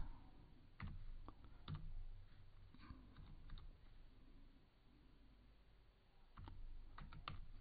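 Code being typed on a computer keyboard in bursts of quick clicks, close and fairly quiet, with brief pauses between runs of keystrokes and no talk.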